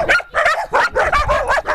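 Stray dogs in Greece bark and yip in a rapid run of loud, close barks, roughly seven bursts in under two seconds with a whimpering edge.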